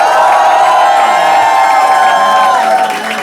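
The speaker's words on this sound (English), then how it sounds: "Big round of applause." A live audience at a comedy debate show applauds and cheers loudly and continuously, a dense roar of clapping and whoops that eases only slightly at the end.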